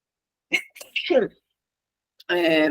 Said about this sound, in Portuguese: Aí eu vou espirrar de novo